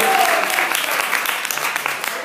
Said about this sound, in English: Clap your hands and give God a yes to his power.